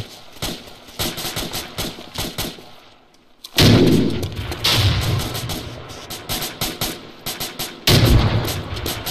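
A video-game firefight: rapid bursts of gunfire crackle, then a heavy frag grenade blast booms into a building, followed by more shooting and a second loud thump, all dense and close.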